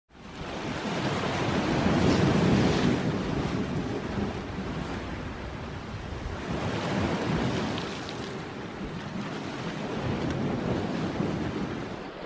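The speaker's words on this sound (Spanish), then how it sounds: "El mar está muy bien, está tranquilito, pero no del todo plano." Calm sea waves wash in at a rocky fishing spot in broad, rolling surges that swell and ease, close and fairly loud, with wind buffeting the microphone and no voices.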